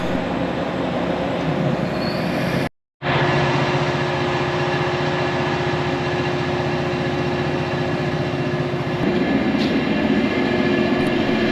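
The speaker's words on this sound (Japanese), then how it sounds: "あちらちょうど見えたのは京備線の普通電車ですね" A Geibi Line local train rumbles steadily past at close range, a continuous rolling drone broken by a brief dropout, with faint squeals over the steady noise.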